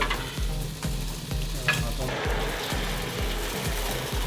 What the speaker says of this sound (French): Faire un petit peu le gras du lard dans la poêle, ça donnera en même temps le goût